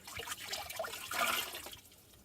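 Rinse water from a laundry bucket is poured out in one short splashing dump, a close burst of sloshing and spattering liquid that swells, then thins to trickles and fades.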